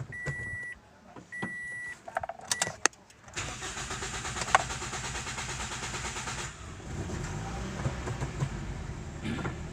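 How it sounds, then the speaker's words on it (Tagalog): Engine of a 2010 Toyota Vios with a replaced fuel pump, a few short beeps and clicks, then a starter cranks and the motor catches, settling into a steady, fairly close idle hum. "Kaya papaandarin natin yung makina."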